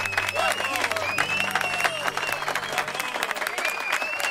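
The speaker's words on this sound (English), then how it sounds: "we got a smattering of applause" A smattering of crowd applause in the video game Witcher 3, steady scattered clapping held throughout, with a voice speaking briefly over it early on.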